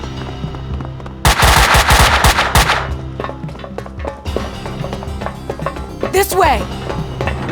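Machine gun fire from the video game Max Payne 2, a loud rapid burst with dense overlapping shots, followed by scattered impacts and game effects, with voices in the scene.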